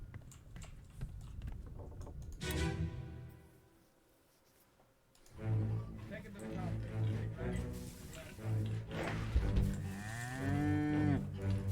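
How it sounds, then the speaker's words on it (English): A cow mooing in the video game Return of the Obra Dinn, a few long, loud, close lowing calls that rise and fall, with quiet clicking and tapping between them. "The cow."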